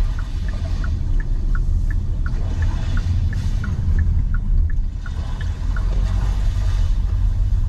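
Ocean-wave ambience plays through a 2021 Hyundai Palisade's sound system: a steady, even wash of noise with faint, regularly repeating chirps riding on top, continuous throughout.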